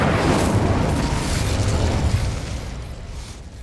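A fire spell, Incendio, blasts in Hogwarts Legacy as a loud, roaring burst that rumbles continuously for a few seconds before easing slightly toward the end.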